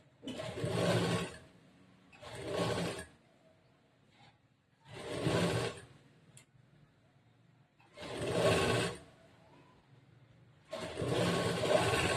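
A sewing machine stitching a blouse runs in five loud bursts of about a second each, separated by quiet pauses, with no voices.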